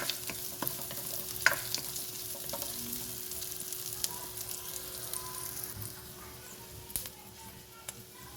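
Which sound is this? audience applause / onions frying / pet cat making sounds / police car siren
onions frying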